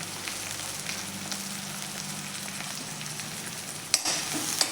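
Chopped tomatoes with onion are sautéed in a pan, giving a steady, close, continuous sizzle. Near the end a sharp clatter of stirring breaks through and the sizzle grows a little louder. No voices.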